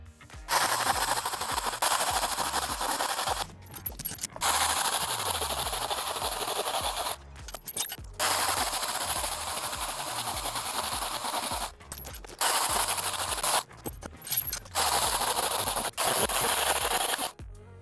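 A STIHL GTA 26 cordless garden pruner running on a 10.8 volt battery, cutting wooden discs: a loud, continuous buzzing motor and chain rasp through wood in long stretches, broken by short pauses between cuts, repeating steadily.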